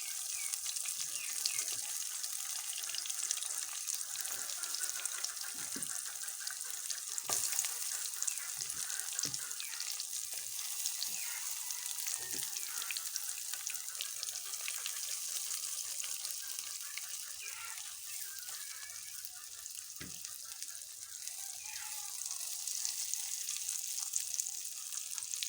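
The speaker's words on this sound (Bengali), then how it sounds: "এটা বেগুনের চপটা করতেছি। আস্তে আস্তে এক এক করে দিয়ে দিতেছি ফ্রাই প্যানের মধ্যে।" Eggplant chops frying in a frying pan give a steady, close, bright sizzle with scattered crackles and pops throughout, at an even level and with no talking.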